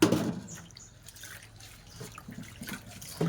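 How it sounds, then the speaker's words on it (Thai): Salted green mango squeezed by bare hands, wet squelching and dripping juice close up, soft liquid trickles with a few louder squishes at the start and end. "คั้นน้ำกับมะม่วงนะ"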